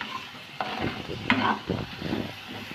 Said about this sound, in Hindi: मटर को डालकर मैं अच्छी तरीके से इसको हिला दूंगी